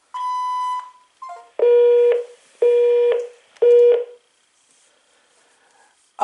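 A Panasonic KX-TG5243 cordless phone answering machine sounds its beeps: one long tone, a short warble, then three loud, evenly spaced beeps, followed by near silence.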